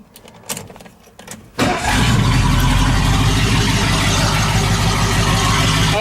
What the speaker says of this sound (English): I've never heard it with this exhaust setup with the new intake and carburetor.